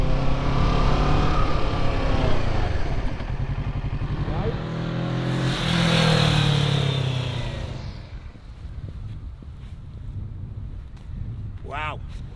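A Kawasaki motorcycle speeds up on a road bend during a rider's first road outing on a big bike, its engine note rising loud and close under heavy wind buffeting, with a rider talking over it.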